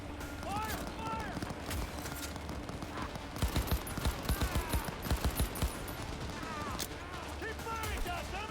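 Gunfire in a video game shootout: a rapid string of gunshots rises over a constant battle din, with people shouting and talking throughout.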